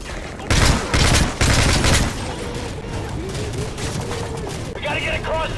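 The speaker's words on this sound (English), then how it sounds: "Frost, Bridge, lay down cover fire!" Heavy gunfire in the Call of Duty Modern Warfare 3 game, loud sustained bursts of automatic fire up front, then lighter shots under shouted voices and a synthetic tone near the end.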